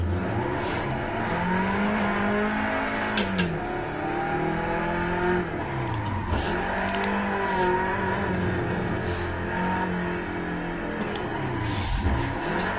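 An old Hyundai car drifts, its engine revving up and down in repeated swells with brief tire chirps, loud and close, with no talking.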